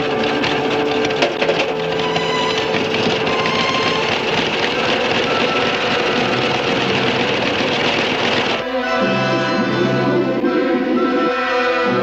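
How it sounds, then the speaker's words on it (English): An air compressor for filling scuba tanks runs steadily with a dense mechanical chatter and hum, loud and constant, shifting to a lower throbbing tone partway through. "the compressor, used to fill scuba tanks with life-giving air"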